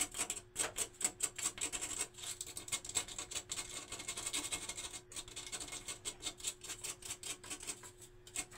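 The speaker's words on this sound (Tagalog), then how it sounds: "Ngayon, gagamitan natin ng liha. Yung medyo magaspang muna." Coarse sandpaper rasping against a fork in quick, repeated strokes, quiet and close, with a steady rhythmic scratch and no talking.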